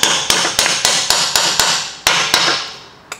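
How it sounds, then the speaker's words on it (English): Hammer blows knocking bolts back into a steering knuckle on a 2016 Camaro SS during spring installation, about eleven sharp metallic strikes in steady rhythm, loud and close, with no talk. "you might have to take your hammer and just kind of knock them back in place"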